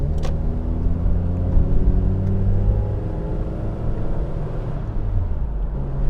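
A 1997 third-generation Toyota 4Runner with 270k miles rumbles along a rough road, its engine drone and tire roar loud and steady from inside the cabin, with occasional knocks and thumps from the uneven surface and no talking.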